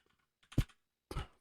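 Two short bursts of keys being tapped on a computer keyboard, close and quiet, separated by a brief silence.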